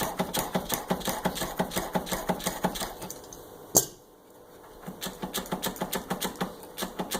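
Channel-lock pliers work a Kirby Sentria II vacuum cleaner fan back and forth on its shaft, producing rapid rhythmic metallic clicking and rattling with one sharp knock and a short pause midway.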